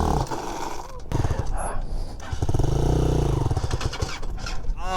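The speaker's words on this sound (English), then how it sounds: "It's a Chinese bike. It's called a Hawk 250." A Hawk 250 Chinese motorcycle runs with a rough, clattering engine rumble that swells in the middle, close by, with people talking over it.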